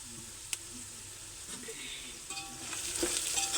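Onions and spices frying and being stirred in a pan, a steady close sizzle with scraping stirs and a few sharp clinks of utensil on metal, growing slightly louder toward the end.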